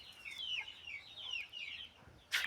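Turkeys give a rapid string of short, faint clucking calls close by in a quiet yard, with a sharper sound at the very end.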